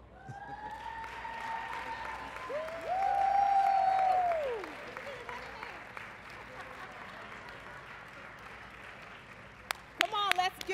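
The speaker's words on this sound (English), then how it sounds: "Come on, let's give them another round of applause" An audience at a student academic excellence awards ceremony gives the honorees a round of applause, a moderate swell of clapping under a rising, sustained voice before settling to quieter hall sounds.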